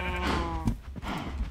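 Sheep bleating in Minecraft, a wavering, voiced cry near the start followed by quieter game sounds, fairly close and alone without speech.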